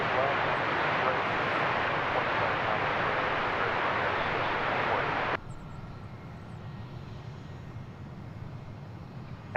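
A McDonnell Douglas MD-11 passes at DFW Airport with a broad, loud jet roar that cuts off abruptly partway through, leaving a quieter hiss.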